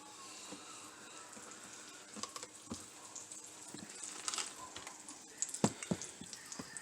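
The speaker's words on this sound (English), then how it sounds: "as soon as that is frying off" Pepper-crusted grilled cheese sandwich frying in a pan, a faint steady sizzle with scattered small pops and crackles growing busier toward the end.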